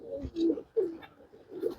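A few low coos from rain-soaked pigeons come in short, separate bursts, fairly faint, with quiet gaps between them.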